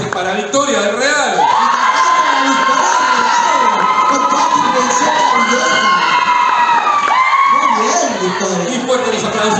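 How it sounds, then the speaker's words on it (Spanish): Loud whooping and cheering from a studio crowd greet a contestant at a televised casting show, shrill shouts rising and wavering over steady clapping for nearly ten seconds. "Fuerte los aplausos para Victoria del Real."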